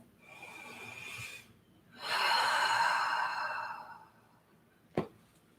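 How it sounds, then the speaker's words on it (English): Deep breathing in a yoga child's pose, with a long inhale followed by a slow, fuller exhale, close and clear, then a brief sharp sniff or snort near the end, with no talk. "Relax, take a deep breath."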